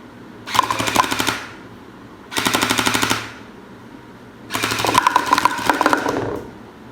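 A new toy gun fires at a box in three loud bursts of rapid automatic rattling, each lasting about a second, with short quiet gaps between them.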